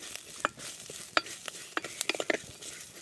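Curry leaves are stirred and dry-roasted in a pan in a village kitchen, giving crackling sizzles and scraping stirs in uneven bursts, close and moderately loud, with no talking.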